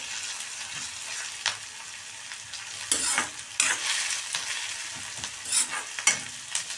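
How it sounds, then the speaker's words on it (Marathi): Onion frying in oil, headed for a dosa made from pulses, gives a steady close sizzle with bursts of spatula scraping and stirring through the pan; no voices. "तेलात एक दोन ते तीन मिनिट कांदा असं छान फ्राय झाला आहे"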